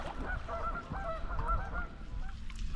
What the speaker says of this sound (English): Yeah, we got some angry geese.